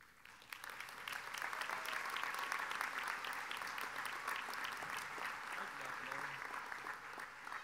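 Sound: applause for graduating speaker at commencement

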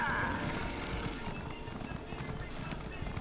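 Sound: horse galloping and neighing in a video game

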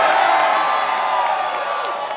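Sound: crowd cheering at a live concert

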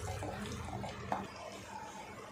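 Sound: water added to tomato curry in the pan

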